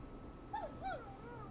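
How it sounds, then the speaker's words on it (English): A neighbor's dog in the video game Killer Frequency gives two short, faint whimpering yelps one after another, heard distantly at night. "is that a neighbor's dog?"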